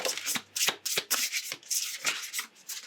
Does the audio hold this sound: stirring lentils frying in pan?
no